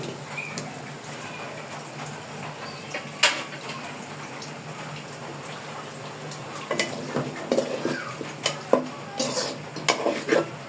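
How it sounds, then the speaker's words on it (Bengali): Washed drumstick stalks and potatoes tipped into chicken cooking in a pan, with close metallic clinks and stirring scrapes that grow busier in the second half; no speech. "ডাটার আলুগুলো এখানে ধুয়ে নিয়েছি। এখন চিকেনের মধ্যে দিয়ে দেব।"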